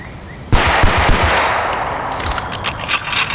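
Loud, close automatic gunfire from a rifle in Bad Company 2 starts abruptly, a rapid burst of shots followed by a fainter mechanical weapon-switch clatter and a few trailing rattles, no speech.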